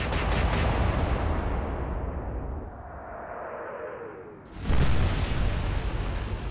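Battleship naval guns firing in the Atlantic Fleet video game: a loud booming salvo that rumbles and fades, then a second heavy blast near the end.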